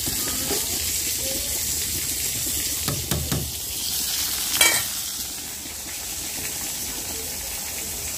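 Bitter gourd and sliced green chilies frying in a pan give a steady, close hiss, broken by a few brief clatters midway.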